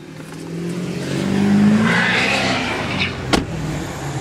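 Pickup trucks nearby rev their engines, a swelling loud roar that climbs in pitch and then eases off, heard outdoors without talk.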